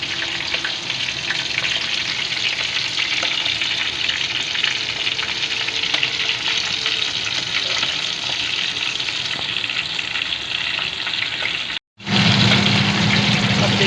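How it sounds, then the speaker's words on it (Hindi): Chicken chargha sizzles and fries steadily in a pan, a dense, even crackle that runs loud throughout and breaks off briefly near the end before resuming. "इसी तरह चारों साइड से ना आपको फ्राई करना है।"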